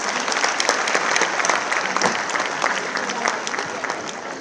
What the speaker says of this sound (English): A round of applause for our leaders.